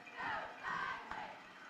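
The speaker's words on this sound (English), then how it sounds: "The crowd here on our side, we're on the Talihina side," A home-side crowd at a Talihina high school football game against Texhoma-Goodwell swells into two rising waves of distant cheering and yelling, faint and echoing across the stands.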